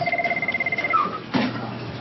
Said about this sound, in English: As soon as you've set yourself up, the phone is ringing.